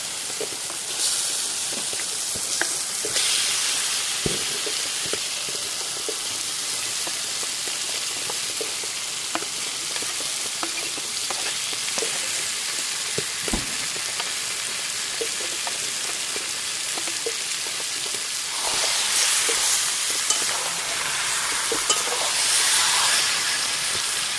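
Country chicken pieces hit a pan of well-cooked spice masala and fry in a sustained hissing sizzle, with scattered stirring knocks and a louder surge of spitting toward the end.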